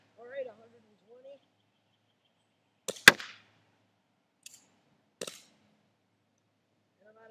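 WE USA M9 gas airsoft pistol fired at a target from long range, sounding as a few sharp, isolated cracks spaced a second or two apart with brief talk before.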